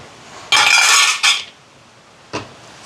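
Sri Lankan coconut cake batter with vanilla essence is beaten in a bowl: one loud, roughly second-long burst of whirring and clattering, a brief follow-up, then a single short knock.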